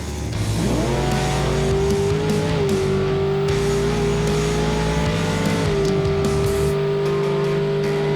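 A Henry J gasser drag car, making about 609 horsepower and weighing around 1200 kg, roars loud and close through a full-throttle run, its engine note climbing and shifting gears in a sustained, steady howl.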